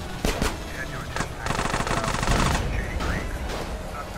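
Gunfire in the video game GTA San Andreas Definitive Edition, with a few single shots and then a rapid automatic burst, loud and close, over game background sound.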